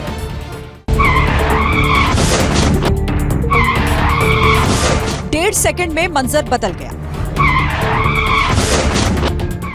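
A speeding motorbike skids along a road in Jaunpur before crashing into an oncoming Bolero. The tyre noise is loud and continuous beneath a news narrator's voice, with screeching bursts in the middle.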